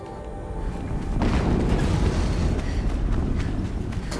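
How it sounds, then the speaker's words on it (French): A deep, rumbling explosion in Horizon Zero Dawn swells after about a second into a sustained, loud boom with a long roar over low game ambience. No one talks. "Another explosion."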